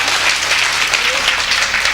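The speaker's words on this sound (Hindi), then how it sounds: "अच्छा लागल तो एक बार पुनः जोर से ताली बजाएं।" Loud, dense applause from the audience at a mushaira and kavi sammelan poetry recital held at Green Global School, continuous clapping close up throughout.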